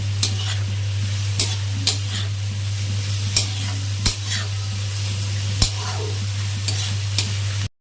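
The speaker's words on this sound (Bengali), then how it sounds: "এখন আঁচটা বাড়িয়ে দিয়ে শাকটা ভেজে নেব" Fenugreek greens sizzle as they fry over high heat, and a spatula scrapes the pan in regular strokes, giving sharp clicks above a constant frying hiss and a low hum.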